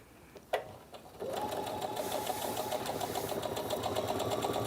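Sewing machine stitching fabric leaf pieces for a fall table runner, a brief click then a steady close mechanical whir with rapid rhythmic needle ticking that continues to the end.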